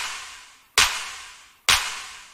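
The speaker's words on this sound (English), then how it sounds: "the clap and the snare drum in the song kind of go hand in hand" Two sharp layered hits of clap and snare drum in a hyperpop beat land a little under a second apart, each with a bright crack and a long fading noisy tail.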